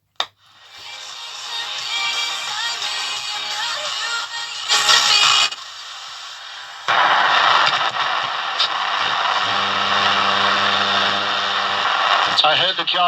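A Roberts R505 radio tuned between stations gives loud, continuous hiss and static that shifts in texture, briefly drops quieter, then returns with a steady buzzing tone underneath.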